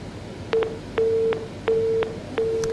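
Repeated telephone tones on a line after a dropped call-in to a regional TV public forum broadcast, four evenly spaced beeps with short gaps, clear and steady, no voices.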